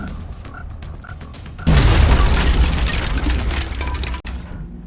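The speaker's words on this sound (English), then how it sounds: "Granata fuori!" A space grenade detonates in a video game with one sudden loud boom, a rumbling low blast that decays over a couple of seconds and follows a quieter stretch of game sounds.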